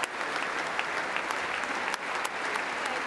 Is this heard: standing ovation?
yes